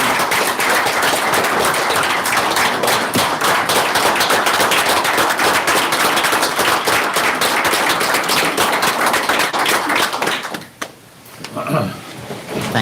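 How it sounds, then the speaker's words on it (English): Loud, dense clapping fills a Franklin town council meeting as members applaud a council member, sustained for about ten seconds before breaking off abruptly, with a few quieter sounds after. "I think we ought to give him a round of applause."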